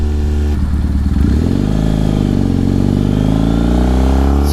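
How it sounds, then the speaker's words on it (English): A custom Triumph T100 cafe racer motorcycle revs at full throttle, its engine note climbing steadily in pitch as it accelerates, loud and close throughout with no talk. "Let's give it a full throttle run."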